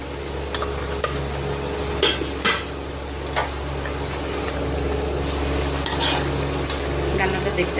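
A spoon stirs fried egg omelettes into a simmering Bengali curry gravy in a pot, giving scraping clinks and clatters over a steady low bubbling hiss, fairly close, with no talking.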